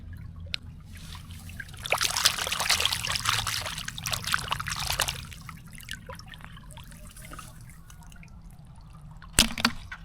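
Water trickles and splashes through a rice field behind a house, swelling into a steady bright gurgle for a few seconds, then thinning to faint drips with a sharp splash near the end.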